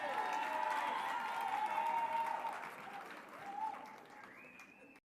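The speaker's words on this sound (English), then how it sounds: "May you all give them a round of applause," A crowd applauds steadily at a university graduation ceremony, dense clapping that fades toward the end, with faint voices and a short tone near the close.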